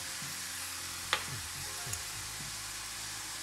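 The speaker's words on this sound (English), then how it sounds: "go ahead and season and cook up your ground turkey or beef" Ground turkey or beef sizzles steadily in a pan with a constant hiss, broken by a few soft scraping stirs and one sharp clink of a utensil.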